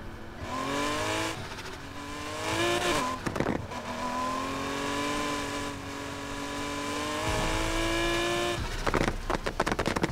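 A Ford Mustang GT engine in Need for Speed Heat, revving up through rising gear pulls with shifts between them, loud and steady, with crackling bursts as the throttle lifts.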